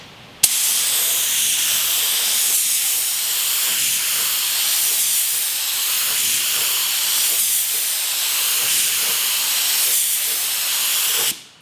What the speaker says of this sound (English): my spray gun, and I'm gonna put down another coat on this